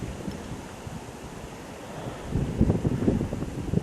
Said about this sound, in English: And you can see how windy it is, maybe.